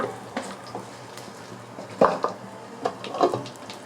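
Mustard seeds and urad dal with a little fennel sizzle in hot oil for a sambar tempering, giving soft crackles and pops with a few sharper spatters and clinks of a pan, fairly faint and without talk.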